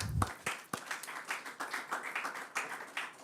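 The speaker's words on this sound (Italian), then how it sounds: "Mario Cavestro, che propongo un applauso." An audience applauds at the presentation of the historic Giostra Rocca di Monselice pageant, a steady patter of many hands clapping, moderately distant and fairly soft, with a few sharper claps near the start.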